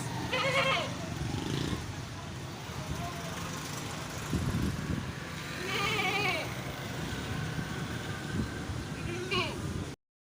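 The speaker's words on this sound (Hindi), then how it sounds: "ये एक बकरी कामूरी अजरक प्रिंट में फॉर सेल है" Kamori goat bleating at a livestock market in Karachi, several short bleats over busy crowd talk and passing road traffic, with someone speaking nearby.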